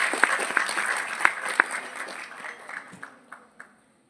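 An audience at a neuroplasticity workshop for psychology students at Amity University Jaipur applauds, starting as a full, steady round of clapping that thins into scattered claps and dies away within a few seconds.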